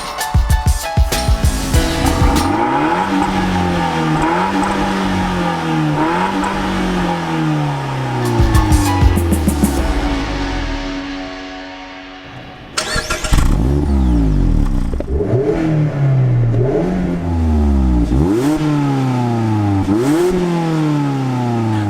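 2018 Mazda MX-5 Miata Club with a 2-liter, 155-horsepower engine accelerating hard in a 0 to 60 test, the engine revving up repeatedly through rising gear pulls with upshift dips, loud and close.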